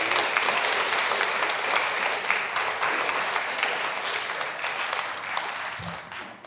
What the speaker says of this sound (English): if we could just do a round of applause